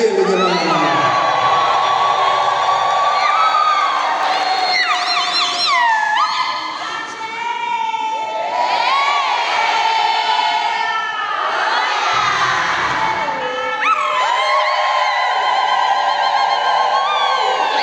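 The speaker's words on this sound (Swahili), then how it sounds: "Shangwe na vigelegele jamani." A church congregation at a Christmas vigil mass erupts in loud, sustained cheering and high, warbling ululation, many voices overlapping in waves for the whole stretch.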